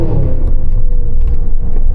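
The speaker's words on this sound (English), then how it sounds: "I just love the full throttle upshift noises." A Cadillac Escalade V under full throttle pulls hard through an upshift, a loud, close, deep exhaust roar with a rumbling low-end growl and a brief shift dip.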